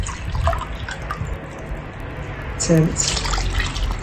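Cold tap water is poured cup by cup into flour, making a steady trickling, splashing pour with a few drips close by. A voice speaks over the pouring.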